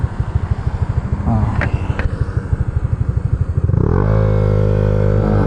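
A Honda Click 125i scooter engine runs close by with a steady pulsing putter, then revs up and settles into a smoother, louder drone toward the end; people talk over it.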